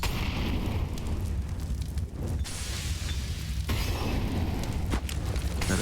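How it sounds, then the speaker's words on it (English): An incendiary grenade lands in a professional Counter-Strike match on the Inferno map: several sharp bursts and crackling fiery whooshes cut through a dense, constant roar of game noise. "Axal's going to drop his incendiary now"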